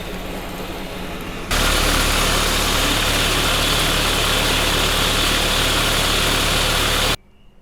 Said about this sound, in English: This car's running, it's charging a battery.